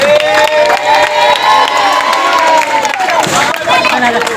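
A crowd during the Onam festival rush claps and cheers loudly and close by, with shouting voices and whoops layered over sustained clapping for a few seconds.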